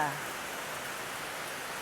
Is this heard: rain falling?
yes